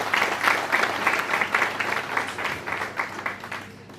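Loud, sustained audience applause at a farewell celebration event, many hands clapping steadily in a dense wash that holds for the whole stretch without any talk.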